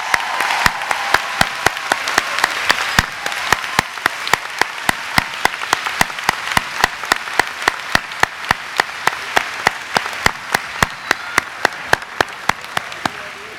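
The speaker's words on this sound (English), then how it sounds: "One more round of applause." Loud, sustained applause fills a college commencement ceremony for an elementary and early childhood education class, with dense clapping from a large crowd and sharp individual claps standing out throughout.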